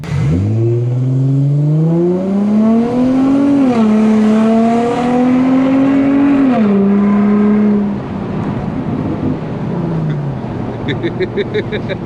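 An Infiniti G35 engine revs up hard and holds a high, strained pitch through two gear-like climbs, then drops off; a crackle of exhaust pops follows near the end.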